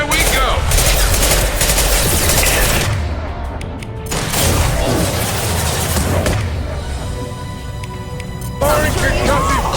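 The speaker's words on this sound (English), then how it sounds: "Firing concussive shot! I'll kill you all!" A concussive shot and gunfire in Mass Effect 2: loud, rapid bursts of weapon fire with heavy impacts that pause briefly before resuming, while characters shout over the combat.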